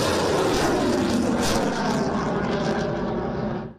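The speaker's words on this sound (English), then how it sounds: "That's the sound of anti-ship missiles being fired by Japanese units participating" A loud, continuous roaring rush of anti-ship missiles being fired during a multinational military exercise in Australia, steady and broadband throughout, fading slightly at the very end.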